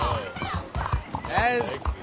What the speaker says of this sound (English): As I ride out of town on my horse, on this beautiful HD LG projector